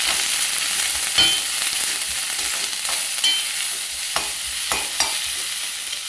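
Vegetables, carrots and green peas with green chilies, stir-fried in a pan for atta noodles, a continuous sizzle with scattered scraping and stirring clicks.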